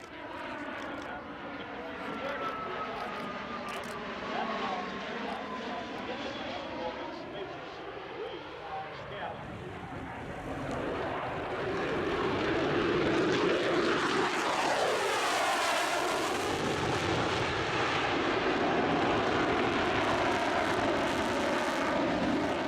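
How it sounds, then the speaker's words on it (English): Propeller and jet aircraft flying over the EAA AirVenture Oshkosh airshow, a steady broadband engine roar with shifting Doppler sweeps that swells louder in the second half as a plane passes close. "Nowhere else on Earth can you see 2 B-29s, the Proteus high-altitude research platform, the graceful Falcon 8X, and the mighty F-22A Raptor flying at the same event."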